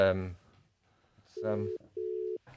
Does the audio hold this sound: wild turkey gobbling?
no